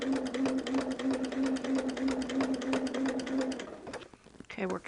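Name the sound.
sewing machine stitching a holiday table runner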